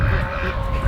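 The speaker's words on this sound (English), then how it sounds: "They're deep quacks." Bielefelder drakes let out a deep, raspy quack that sounds close and loud and lasts under a second.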